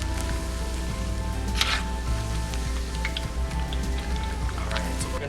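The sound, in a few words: seitan pieces frying in oil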